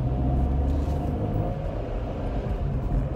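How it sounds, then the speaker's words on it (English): Road traffic rumbling past close by, a steady deep roar of passing vehicles that swells and eases slightly over a few seconds, with no voices. "There's a lot of traffic right here."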